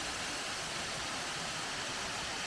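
Steady, full roar of the waterfall at Galvin Gorge along the Gibb River Road, a dense continuous rush of falling water heard up close with no pauses.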